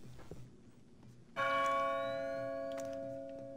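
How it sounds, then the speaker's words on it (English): In the Splinter Cell video game, a single bell strikes loudly with a clear metallic tone and rings out, slowly decaying over several seconds after faint earlier ambience. "What's that? Well, no, it was a bell"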